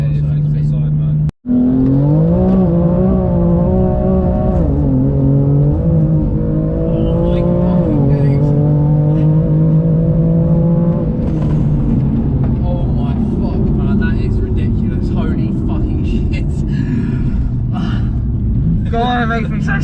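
A 700 BHP BMW M4, rear-wheel drive, accelerates hard with a loud engine note climbing through revs in repeated pulls, close and continuous, while a person talks over it.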